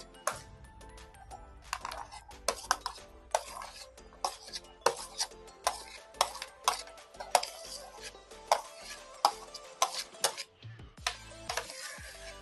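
Chopped fruits including cucumber are tossed and mixed in a bowl for fruit chaat, with a regular series of close, sharp clinks and knocks of a spoon against the bowl, no talking.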